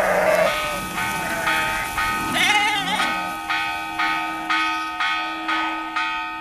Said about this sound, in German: Jahrhundertelang verständigte man sich von Dorf zu Dorf über die Sprache der Glocken.